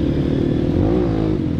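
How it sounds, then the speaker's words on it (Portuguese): Motorcycle engines drone steadily nearby on a dirt trail, the pitch climbing slightly as one revs, with a rough, clattering rumble and no voices. "Muita moto no trilhão aqui, viu?"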